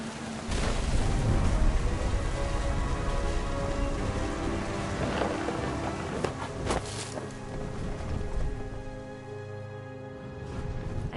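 Steady rain pours throughout a stormy scene in the video game What Remains of Edith Finch, with a few sharp thunder cracks breaking through near the middle, loud and close, and no talk over it.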